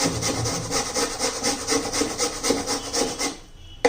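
Red pumpkin being grated by hand, a continuous rhythmic scraping and rasping of repeated strokes, close and fairly loud, stopping abruptly near the end.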